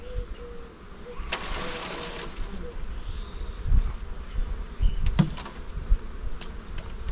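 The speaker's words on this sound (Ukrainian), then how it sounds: "бджоли тут нормально" Honey bees buzzing steadily around an open hive during swarm-trap beekeeping work, a constant droning hum with wind noise, handling thumps and a few sharp knocks.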